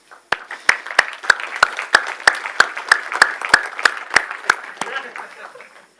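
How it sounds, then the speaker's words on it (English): Slow, evenly spaced claps ring out one after another at a tech conference talk, sharp and distinct, about a dozen beats fading toward the end with a faint chuckle. "if you can just join me in giving them a round of applause"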